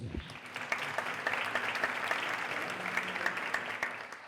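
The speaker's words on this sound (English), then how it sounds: "Big applause for Sophia, please" An audience applauds steadily for Sophia the robot, a dense wash of clapping with scattered sharper claps, sustained throughout.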